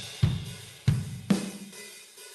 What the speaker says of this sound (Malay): apabila telah masukkan bunyi drum tadi